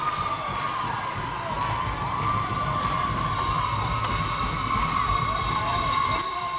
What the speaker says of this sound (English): These fans are loud.